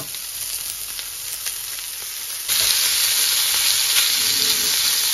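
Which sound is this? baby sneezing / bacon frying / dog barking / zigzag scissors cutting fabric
bacon frying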